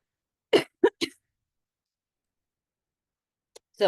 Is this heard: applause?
no